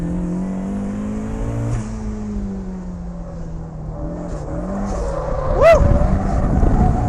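Turbocharged Mazda Miata engine driving hard, loud and close from inside, with shifting drone and rising revs, a sharp whistling spike late on, without talk.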